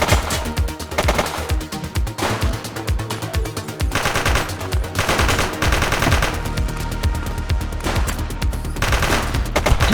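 Sustained close automatic weapon fire rattles through a shootout in the police video game The Precinct, with dense overlapping volleys and heavy low thumps almost without pause.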